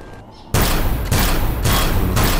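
A sudden loud blast in Empyrion Galactic Survival, starting abruptly after a quiet moment and roaring on as a dense, sustained rumble with repeated surging bursts.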